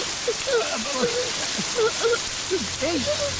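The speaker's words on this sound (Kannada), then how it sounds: "ಯಾರೋ ಸ್ನಾನ ಮಾಡ್ತಿದ್ದಾರೆ ಮಲ್ಕೊಂಡು ಸ್ನಾನ ಮಾಡ್ತಾರಾ ಅದು ಪಬ್ಲಿಕ್ ಪಾರ್ಕಲ್ಲಿ" Steady hissing rush of water as someone bathes in a public park, running continuously while voices talk over it.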